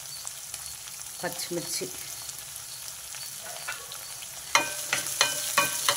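Chopped onions and green chillies fry in hot oil in a pan, a steady close sizzle with scattered crackles and a few sharper spatters and stirring scrapes, a brief spoken word over it.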